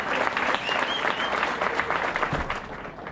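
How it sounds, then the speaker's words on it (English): A banquet audience at a motorsports awards dinner gives a big round of applause, loud sustained clapping from a crowded hall with no break. "if you make a big round of applause, he'll probably hear you back there"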